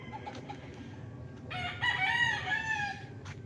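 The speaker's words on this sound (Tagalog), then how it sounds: "Daming alagang manok mga kapraps" Farm chickens at a property near Nagcarlan crow and cluck close by, with a long, loud rooster crow rising clearly over scattered softer clucks and steady farmyard background noise.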